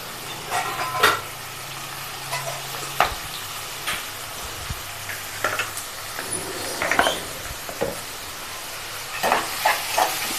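Thinly sliced onions and curry leaves fry in a pan for Andhra village-style fish pulusu, giving a steady hiss of sizzling oil broken by intermittent scrapes and knocks of stirring, close and moderately loud.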